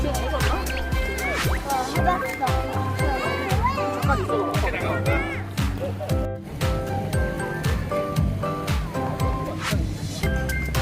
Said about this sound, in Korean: 키즈 풀장이에요.